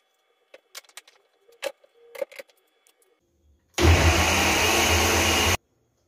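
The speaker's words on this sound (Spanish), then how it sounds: "Ya molimos la primer tanda de hierbitas" A kitchen blender grinds herbs with broth for Mexican cooking, starting after a few soft clicks and handling sounds, then roaring loud and steady for about two seconds before cutting off abruptly.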